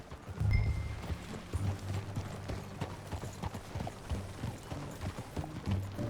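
Horse hooves clip-clop in a steady riding rhythm in the video game Red Dead Redemption 2, close and continuous, with faint voices in the background.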